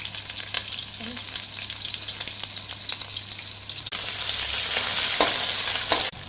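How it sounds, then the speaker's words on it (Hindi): Garlic paste sizzles and crackles loudly in a hot pan, a continuous bright fry that surges louder partway through as it is stirred, with no voices. "अब मैं इसमें गार्लिक पेस्ट ऐड कर रही हूँ।"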